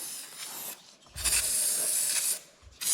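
Kent rust release lubricant, a WD-40-type penetrating oil, sprays from an aerosol can in two close, loud hissing bursts, the longer one lasting over a second, with short pauses and a brief third spurt at the end.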